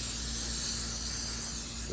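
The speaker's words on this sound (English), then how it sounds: "I'm going to go ahead and just spray each one out with contact cleaner" Contact cleaner sprayed onto antique mortise door lock parts, a steady close aerosol hiss held for the whole stretch with faint mechanical hum beneath.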